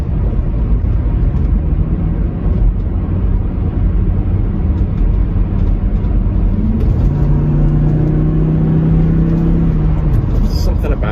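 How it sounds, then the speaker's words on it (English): A Volvo T5 five-cylinder car engine drones steadily and loudly as it drives, with a deep, constant rumble that rises in pitch partway through as the engine revs up. "Something about the sound of a 5-cylinder."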